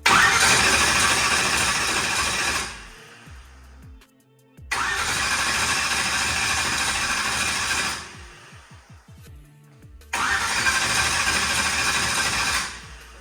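A new car's engine cranks and fires up three times in succession, each start followed by a loud, steady run before cutting off, with brief quiet gaps and sputtering between attempts.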